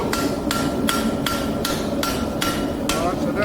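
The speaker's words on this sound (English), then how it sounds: "it'll hammer out quite well" Hot metal being forged under a hammer: seven sharp, ringing blows land at an even pace, close and loud, over a constant background roar from the forge.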